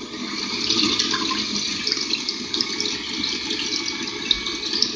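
A Sunbeam MixMaster Heritage Series stand mixer runs at slow speed, beating eggs, water and oil in its bowl with a steady, close whirring hum and no voices.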